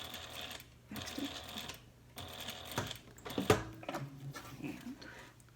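A sewing machine makes a short back stitch while sewing a slip pocket, with quiet bursts of stitching separated by brief pauses and small handling clicks, all fairly faint.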